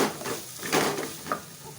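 Curry leaves fry in oil sizzling steadily in a pan, with soft stirring scrapes and light clinks, close by, no voices.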